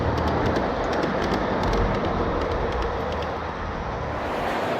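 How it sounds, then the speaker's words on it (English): Garden railroad model train of military service cars running past outdoors, a continuous broadband rolling rumble with faint ticking clicks, steady and fairly close. "Here comes Club President Barry's train of all military service cars."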